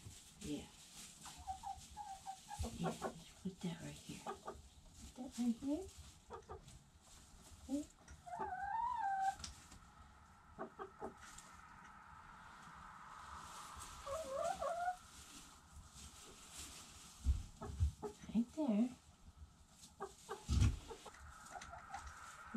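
Chickens clucking and pecking at jelly outdoors, scattered soft clucks and short calls at close range, with quiet conversation and light rustling in between.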